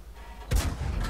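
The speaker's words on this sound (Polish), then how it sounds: "O, i bezpieczny strzał." A single heavy Cromwell tank cannon blast in the game World of Tanks booms out sharply after a quiet moment, followed by a short rumbling decay.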